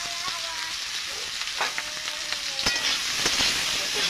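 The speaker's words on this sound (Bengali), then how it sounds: "একটু ভাজা ভাজা করে নেব।" Cut potatoes with slit green chillies, salt and turmeric sizzle steadily in a hot pan, with a constant close frying hiss and occasional crackles and stirring clicks.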